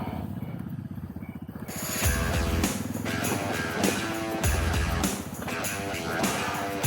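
Engine noise rumbles and rises as an off-road motorbike revs while turning around on a trail, with repeated loud low surges and mechanical clatter after a quieter opening.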